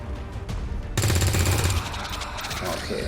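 Rapid bursts of automatic gunfire from overwatch shots in the strategy video game XCOM 2, loud and layered over battle noise and music, with a heavier volley in the middle.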